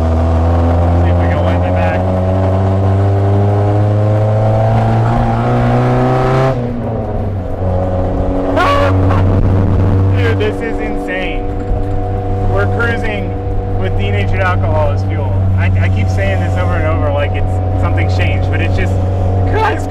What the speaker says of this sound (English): It's a stock Miata running on denatured alcohol.